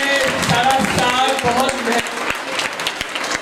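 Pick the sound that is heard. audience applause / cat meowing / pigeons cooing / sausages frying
audience applause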